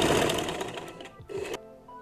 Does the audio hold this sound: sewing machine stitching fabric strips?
yes